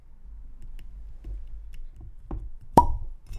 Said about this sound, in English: That was a good cork pop.